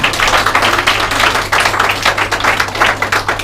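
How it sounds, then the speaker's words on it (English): Wedding guests applaud the groom at a solemnization ceremony, a steady dense patter of many hands clapping close by for a few seconds, with a low hum underneath and no talk. "Come, a round of applause for Sean."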